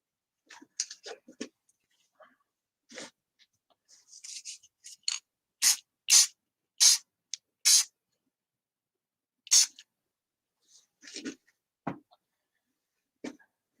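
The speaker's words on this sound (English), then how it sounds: "I'm going to actually kick this with just a little bit of lacquer." Short hissing bursts of aerosol lacquer sprayed onto a small turned wooden flower piece, several close, separate spurts with brief pauses between them, plus a few quieter rubbing sounds, no talking.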